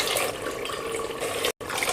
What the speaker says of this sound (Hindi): अब इसमें हम इतना पानी ऐड करेंगे जिसमें कि गोश्त अच्छे से गल जाए।